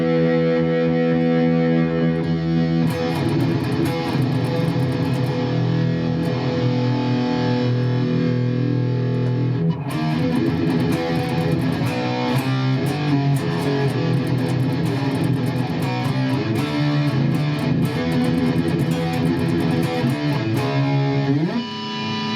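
Heavily distorted electric guitar through a Boss Katana 100 amp with distortion turned all the way up plays continuously, thick and saturated with a buzzing, crunchy tone, loud and steady with a brief break midway.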